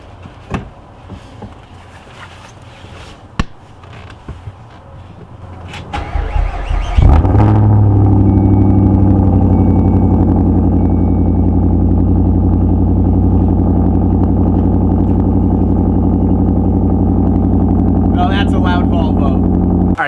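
A Volvo S80 V8 with a straight pipe exhaust cold-starts at 2 °C: after some faint handling noises the engine cranks and catches around seven seconds in, then settles into a loud, steady, deep rumbling idle close by.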